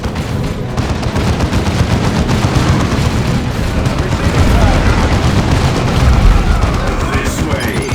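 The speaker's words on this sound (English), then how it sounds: "Return fire, brothers!" Dense, continuous battle gunfire from the video game Dawn of War 2: Chaos Rising, rapid overlapping shots and bursts with booming impacts filling the whole stretch, loud and close, with voices shouting orders over the din.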